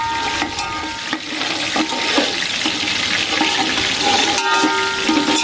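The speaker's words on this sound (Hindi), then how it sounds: "अब इसमें सब्ज मिर्च शामिल कर देंगे। और इसको फ्राई कर लेंगे।" Green chillies frying in oil for kadhi pakora, a continuous loud sizzle with occasional stirring scrapes and clinks from the pan.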